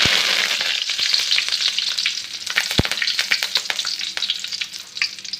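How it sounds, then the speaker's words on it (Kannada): Mustard seeds, cumin and curry leaves hit hot oil for a ridge gourd sambar, crackling in a loud, busy sizzle with scattered pops and one sharp clink up close, no speech. "ಆಯ್ತು ಚೆನ್ನಾಗಿ ಕಾಯ್ದೆ ಇವಾಗ ಒನ್ ಟೇಬಲ್ ಸ್ಪೂನ್ ಆಗೋವಷ್ಟು ಸಾಸಿವೆ ಆಮೇಲೆ ಜೀರಿಗೆ ಒಂದು ಇಡಿ ಆಗೋವಷ್ಟು ಕರಿಬೇವು"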